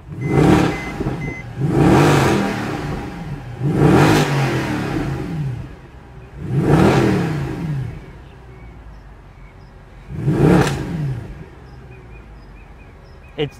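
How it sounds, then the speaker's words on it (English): A 2013 Mercedes C63 AMG engine revs hard five times in close succession, each loud roaring burst rising and falling back to a low idle between blips. "When you get this thing out on the road and you open it up, it sounds like a real muscle car."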